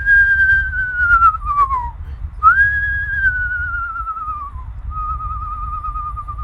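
A person whistles to imitate the hoarse, neighing whinny of a red-faced screech owl, with clear tones that slide downward, break off, then rise and fall again, close and loud over a low background rumble.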